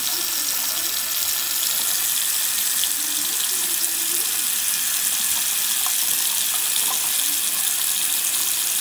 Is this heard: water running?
yes